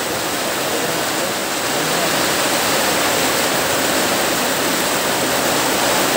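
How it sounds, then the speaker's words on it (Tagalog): A heavy downpour of rain, a loud, steady, broadband rushing roar that fills the space without pause, near and constant for several seconds. "Lakas ng ulan ngayon, no?"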